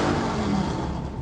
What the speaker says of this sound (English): Assholes like that revving their engines